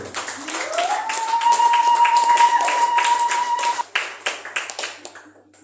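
A church congregation stands and claps in acclaim of the Lord during a Sunday worship service as the pastor approaches. Dense, steady applause fills the room, a long sustained high cry rides over it, and the clapping thins into scattered claps at the end.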